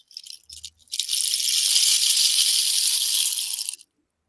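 A small homemade shaker rattle filled with lentils gives a couple of brief shakes, then a steady, dense hiss of rattling for about three seconds before stopping abruptly, close and clear.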